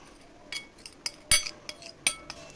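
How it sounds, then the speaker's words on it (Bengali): A metal spoon stirs chickpea flour and coffee powder in a bowl, giving sharp, irregular clinks and scrapes that stand out clearly over near silence. "তো কিছুক্ষণ আমি এভাবে মিশিয়ে নিলাম চামচ দিয়ে।"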